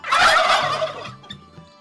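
A turkey of an improved commercial breed, at a poultry research institute, lets out a loud, close rattling gobble that fades into a few softer clucks, with no voices present.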